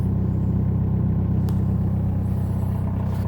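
A 2006 Jeep Liberty CRD diesel idles roughly just after a cold start at about 33 degrees Fahrenheit. It gives a steady, loud, close low rumble with an uneven chugging pulse.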